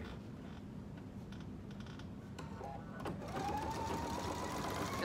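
A sewing machine stitching the side seams of a market bag, a steady close mechanical whirring hum that grows slightly louder and brighter as it speeds up, with light clicks of fabric handling.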